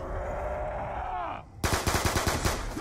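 Rapid automatic gunfire in a zombies video game, a fast burst of about ten close, punchy shots that cuts in after a tonal whirring sound, while players talk over voice chat.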